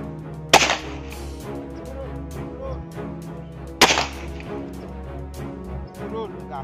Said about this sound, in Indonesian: walaupun ini tembakan cepat, jadi tetap menekan penarik dengan